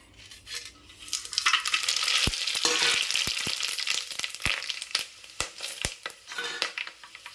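Ingredients for coconut pulao frying in a hot kadai, a steady close sizzle broken by sharp clinks and scrapes of a spoon stirring against the pan, with no talking.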